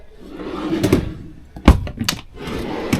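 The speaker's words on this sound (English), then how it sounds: "really good drawers. The drawers are quite deep." A caravan kitchen drawer slides and thuds shut with a sharp close knock, with softer sliding rumbles before and after in a small interior.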